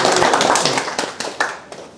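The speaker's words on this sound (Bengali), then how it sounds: "ভাইয়ের জন্য সবাই একটা হাততালি দিতে পারবেন না?" Audience applause for a honey seller in Khulna, a dense burst of clapping that thins into a few separate claps and fades out within about two seconds.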